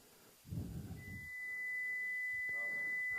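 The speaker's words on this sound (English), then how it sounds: "And that should be sine wave." A steady pure sine tone from vector synthesis hardware enters partway through and holds alone after a brief low rumble and a short click.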